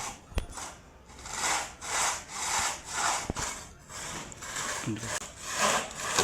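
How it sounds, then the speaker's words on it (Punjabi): A large neem tree branch is cut with a hand saw, a regular rasping back-and-forth rhythm of about a stroke every half second, close and continuous, with a few sharp knocks. "ਜਿਹੜਾ ਇੱਕ ਵੱਡਾ ਟੈਨ ਵੱਢਦੇ ਵੱਢਦੇ ਛੱਡਤਾ ਸੀ ਉਹਨਾਂ ਨੂੰ ਦੁਬਾਰਾ ਫਿਰ ਵੱਡਣਾ ਸ਼ੁਰੂ ਕਰਤਾ ਹੈ"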